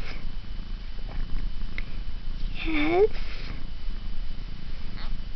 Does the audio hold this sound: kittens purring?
yes